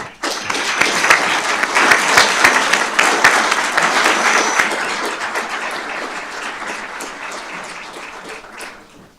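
A crowd at a fire and rescue service awards ceremony breaks into sustained applause, loud and dense at first, then gradually thinning and fading away over several seconds.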